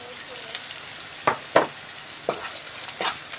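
Onions and spices fry in a pan for chicken with ash gourd, a constant sizzle broken by four or five distinct scraping strokes of a spoon stirring the mixture up close.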